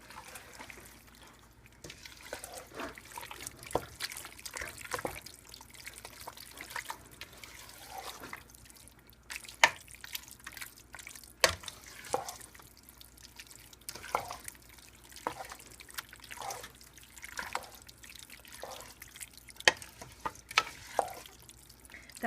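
Spoon stirring salsa into chimichanga filling, soft wet scraping and squelching strokes repeated close by with faint sizzling in the background, no speech.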